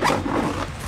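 A zipper is drawn along the top pocket of a Nomatic backpack, a close, quick rasping pull with no voices.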